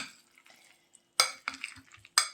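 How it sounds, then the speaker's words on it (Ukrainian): A spoon stirs a salad of chicken fillet, omelette and peas in a bowl, giving a few soft scrapes and sharper clinks against the dish, close and quiet. "зараз добре перемішаю"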